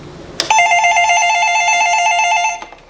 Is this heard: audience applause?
no